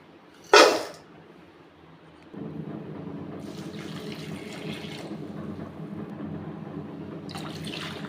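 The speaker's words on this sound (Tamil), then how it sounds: "முக்கால் கப்பு வெல்லமும் 2 கப்பு வாட்டரும் நான் ஆட் பண்ணிட்டுருக்கேன்." Water is poured into a pan holding jaggery, a steady, close splashing fill that starts after a short sharp clatter and goes on with a couple of brief louder surges, with no talk.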